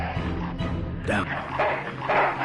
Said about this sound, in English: That's one ill-tempered mongrel.